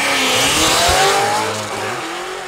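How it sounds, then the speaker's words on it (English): A 2006 GTO launches down the drag strip at Lonestar Motorsports Park, its engine roaring loud and close with rising harmonics as it accelerates hard, holding a steady, powerful drone that eases slightly as it pulls away. "That's the last car we're running right there."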